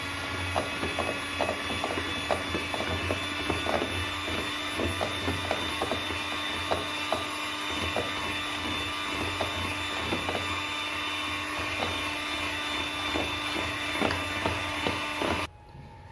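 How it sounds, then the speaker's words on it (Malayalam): An electric hand mixer whirs steadily as it beats vegetable oil and vanilla essence into plum cake batter, a continuous motorized hum with rapid clicking of beaters against the bowl, stopping abruptly at the end. "വെജിറ്റബിൾ ഓയിലും വാനില എസൻസും കൂടിയിട്ട് നമുക്ക് നന്നായിട്ടൊന്ന് ബീറ്റ് ചെയ്തെടുക്കണം"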